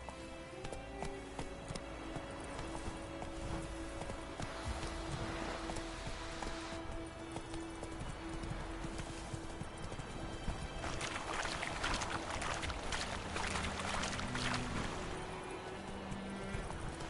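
Hooves of a galloping horse in The Witcher 3 drum steadily under layered game music and ambience, loud and continuous throughout.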